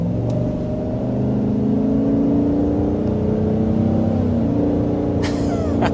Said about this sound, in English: that active exhaust sounds really good out here on the road